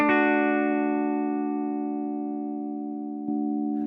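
Clean electric guitar tone from an FM9 modeler: a single chord rings out and slowly decays, then a second soft strum near the end, no voices.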